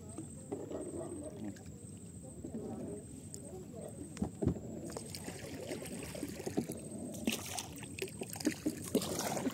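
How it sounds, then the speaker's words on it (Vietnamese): A small rowboat is paddled across water, with soft splashes and dripping from the oars mixed with wind and occasional knocks, while people talk over it throughout. "Cứ chèo tới nữa rồi để quay đầu."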